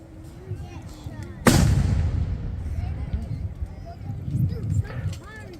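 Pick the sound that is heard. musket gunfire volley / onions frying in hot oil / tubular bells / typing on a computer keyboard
musket gunfire volley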